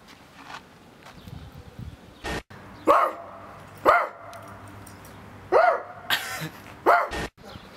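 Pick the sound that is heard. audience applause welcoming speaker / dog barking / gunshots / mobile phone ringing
dog barking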